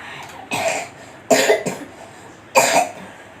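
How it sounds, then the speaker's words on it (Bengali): A feverish child with a chest cold coughs three times in separate, wet, close bursts, spaced about a second apart, with quiet pauses between them. "তার মধ্যে কাশি বুকে সর্দি কাশি সর্দি লেগেই আছে"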